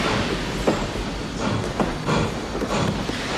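A train rolls along rails in a film scene, a dense, loud rumble with repeated clanks and rattles from the wagons, continuous throughout.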